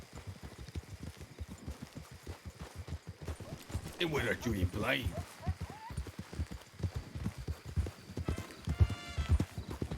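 Steady clip-clop of horse hooves runs throughout, fairly close, with people talking over it in the middle.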